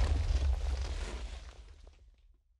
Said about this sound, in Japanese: 壊しただけで爆発するのは上のやつだったようですね